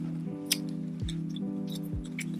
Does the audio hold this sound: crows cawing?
no